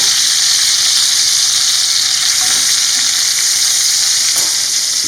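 Steaks frying in a hot pan while being basted with fat and herbs, a loud continuous close-up sizzle and hiss with steady spattering throughout, with no voices.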